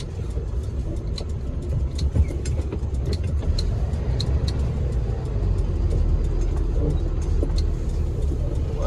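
Vehicles idle and crawl in heavy traffic near a petrol station on a road trip from Bali, heard from inside a vehicle as a steady low engine rumble with scattered faint clicks and rattles.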